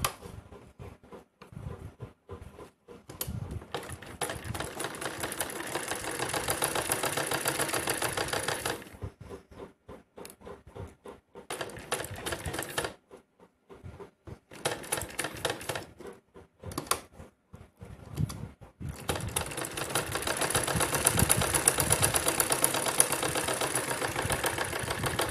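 Sewing machine stitching buckram pinned to a half-inner fancy blouse neckline, several runs of rapid mechanical chattering broken by short silences, fairly close and alone.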